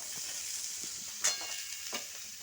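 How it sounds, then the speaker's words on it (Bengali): Vegetables for a light gandal-leaf broth fry in a pan with a soft, steady sizzle. A couple of brief louder crackles sound along the way and no one speaks. "সবজিগুলো বন্ধুরা ভালোভাবে হালকা করে ভেজে নিয়েছি"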